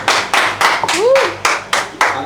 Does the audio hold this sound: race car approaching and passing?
no